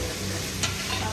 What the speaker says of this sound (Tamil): அடுத்தது உருளைக்கிழங்கு மிளகாய் ரெண்டுமே சேர்த்து போட்டுக்கலாம். நல்லா கிண்டி விட்டு வருங்க.